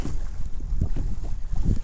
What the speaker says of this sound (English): Wind's picking up, and now there's like a fog coming across the lake